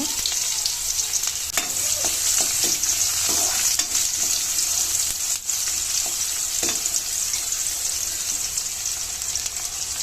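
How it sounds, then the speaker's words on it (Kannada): Chopped onions and cumin seeds frying in hot oil in a pan, a loud continuous sizzle with frequent scraping stirs of a spoon throughout, close and steady with no voices. "ಈಗ ಹೆಚ್ಚಿಟ್ಕೊಂಡಿರೋ ಈರುಳ್ಳಿ ಹಾಕ್ಕೊಂಡು ಕೆಂಪಗಾಗೋವರೆಗೂ ಫ್ರೈ ಮಾಡ್ಕೋಬೇಕು"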